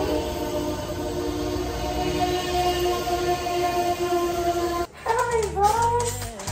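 Steady rumbling and humming of a moving train from inside a carriage, with faint tonal whine; near the end the sound shifts and voices speak.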